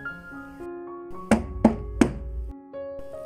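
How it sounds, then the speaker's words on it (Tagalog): Three firm knocks land on a door at a steady pace, loud and near, with a sustained musical drone holding underneath before and after. "Pareho kaming napatingin sa pinto na may kumatok doon."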